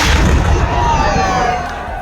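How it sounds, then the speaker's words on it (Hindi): Cannon fire in a 21-gun salute at midnight at the Shrinath temple grounds on Krishna Janmashtami, a 352-year-old tradition with a large crowd; a loud, dense rumbling blast fills the clip with crowd noise beneath. "आग से तोप को फायर कर रहे थे"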